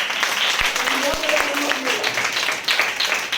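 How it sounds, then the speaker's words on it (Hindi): Children in a classroom applaud a classmate, a scattered patter of clapping with a few sharper claps, mixed with voices and chatter throughout. "तालियां"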